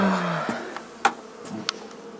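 Honey bees at a breeding apiary, a buzzing drone that fades as individual bees pass close by with brief louder whirs, heard alone with no talking.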